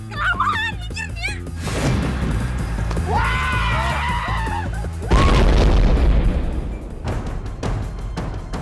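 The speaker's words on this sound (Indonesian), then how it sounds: "Suara ledakan apa itu?" A loud, booming blast erupts midway amid chaotic noise, with dog barking and shouting voices before and after it.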